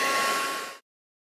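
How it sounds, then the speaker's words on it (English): A heat gun blowing for heat embossing a stamped card, a steady close whooshing hum that runs for under a second and then cuts off to silence. "Heat emboss it."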